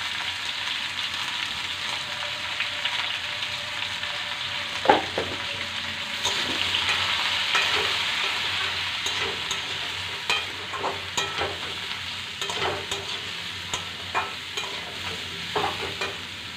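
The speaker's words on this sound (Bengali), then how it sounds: "আলু ভেজে নেওয়ার পর দিয়ে নেব কেটে রাখা লাউ" Chopped bottle gourd added to a pan after frying potatoes sizzles steadily while a spatula stirs and scrapes it. Sharp, irregular clacks sound over the constant close frying hiss.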